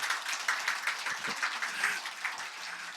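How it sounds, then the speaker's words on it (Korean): A church congregation applauds to welcome visiting guests, a fairly soft, even patter of many hands clapping at a distance. "한번 크게 박수로 환영했으면 좋겠습니다."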